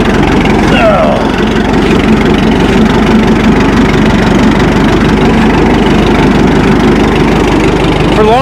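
Oliver 770 tractor engine idling steadily up close, a continuous low rumble with a faint rhythmic knock that holds level throughout the clip.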